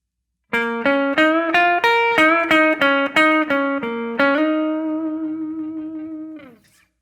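A solo electric guitar plays a quick blues lick of plucked notes over a slow blues, then holds a final bent note that rings and fades out.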